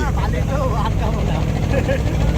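A trawler boat engine drones steadily and loudly throughout on a rough sea in the Sundarbans, with people talking excitedly over it.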